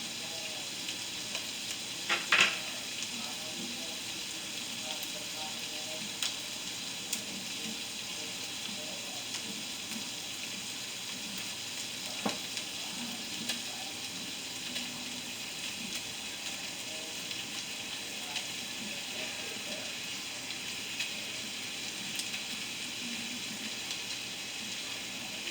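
Shepherd's pie filling with Italian sausage stirred and frying in a pan, a steady soft sizzle running throughout with occasional faint utensil clicks, close and fairly quiet.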